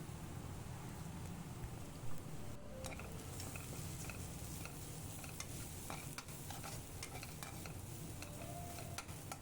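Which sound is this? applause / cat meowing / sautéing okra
sautéing okra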